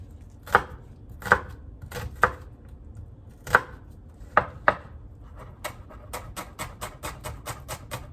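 A knife finely dicing a shallot on a cutting board, with several sharp, separate chops followed by a quicker, lighter run of steady taps, close and alone.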